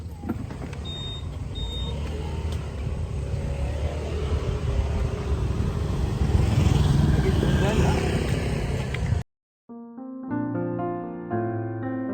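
A rented motorbike ridden on rain-wet roads in Vietnam produces a loud, continuous rumble of engine and wind for about nine seconds, then breaks off into music.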